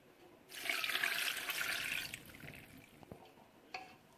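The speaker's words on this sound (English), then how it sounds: "And then add water." Water poured into a pot while cooking Omebe black soup, a steady splashing pour for about a second and a half that tapers into lighter trickling, with a brief clink near the end.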